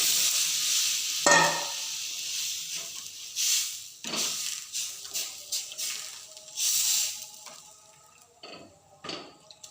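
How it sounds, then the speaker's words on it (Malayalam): Spinach curry simmers in a pan after coconut is poured in, with soft bubbling and sizzling broken by several sharp bursts of stirring and scraping, close by and with no talking. "ഇനി നാളികേരം ഒഴിച്ചു കൊടുക്കണം."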